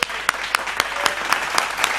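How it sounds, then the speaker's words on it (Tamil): Congregation at a Sunday church service claps hands in a steady, rhythmic beat, roughly four claps per second, loud and close with a reverberant room behind them. "நல்லா கைத்தட்டுங்க."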